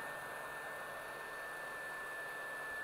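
A hair dryer blows a steady stream of hot air over four small stickers, a constant even whoosh with a faint high whine running throughout, close and alone with no talking.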